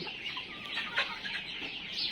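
Tiger breed chickens cluck and squawk continuously at close range, several birds overlapping in a busy farm coop chorus with no talk.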